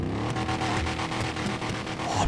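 A modified Tofaş Şahin car engine in GTA 5 revs loudly and continuously, a rough, throaty drone with pulsing surges, close up and with no other sounds.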